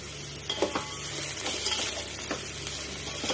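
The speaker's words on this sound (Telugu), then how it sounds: "గోల్డెన్ కలర్ వచ్చే వరకు అయితే ఉల్లిపాయలు వేపేసుకుందాము" Onions fry in a pan while being stirred, making a steady close sizzle. Several sharp scrapes and taps from the spoon against the pan sound through it.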